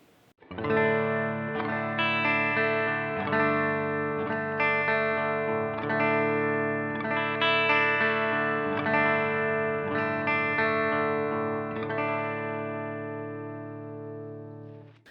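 Electric guitar through a Strymon Iridium amp pedal with overdriven, gritty tone, strummed chords ringing out with a slight chorus shimmer, played steadily and loudly before fading at the end.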